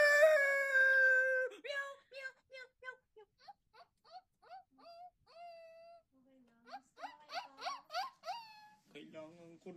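A person imitates a dog, giving a long drawn-out whine followed by a run of short yelping barks, with a few lower vocal sounds and a closing bark, close and fairly loud.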